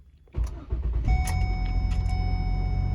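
A 2008 Ford Escape cranks and catches almost at once, then settles into a steady, close running hum after a short burst at the start.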